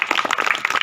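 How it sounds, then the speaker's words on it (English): A brief burst of clapping from a school audience at a foundation day celebration, honoring students who qualified in a talent search examination. "give a huge round of applause for them also"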